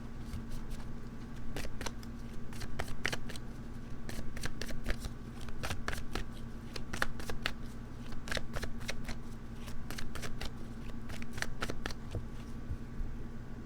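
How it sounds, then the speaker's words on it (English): A tarot card deck is shuffled and cut by hand, a long run of crisp riffling bursts and flicks repeating at a quick, uneven pace, close and fairly quiet with no talking. "Let's cut the deck and see what comes up for you"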